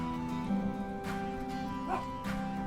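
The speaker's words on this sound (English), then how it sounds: "please stop barking." A dog gives a few short barks and yips against a steady background hum, moderately close and spaced irregularly.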